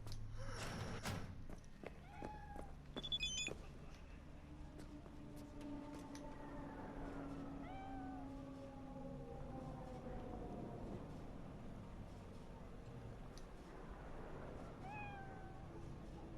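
A cat in Cyberpunk 2077 meows several times, each meow rising and falling, spread across the stretch over steady in-game ambience and a low hum, with a few thumps near the start.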